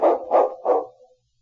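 A sled dog outdoors gives three loud, close barks in quick succession, the last trailing off into silence.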